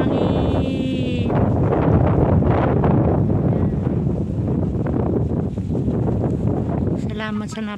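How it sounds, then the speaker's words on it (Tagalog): Steady wind gusting across a hilltop overlook above Hong Kong Island, a dense rushing roar that lasts throughout, with a person speaking briefly near the end. "Ang sarap ng hangin."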